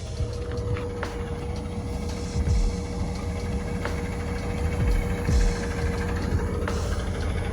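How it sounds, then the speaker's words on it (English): A truck pulls in along River Road in Louisiana, its engine a low rumble that swells as it nears, over a steady outdoor background with a faint constant tone. "This truck is pulling in here."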